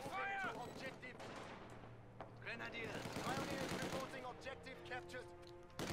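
Rapid gunfire bursts in the Company of Heroes 2 video game, machine gun and rifle shots crackling in quick clusters under almost continuous talking and shouted battle voices.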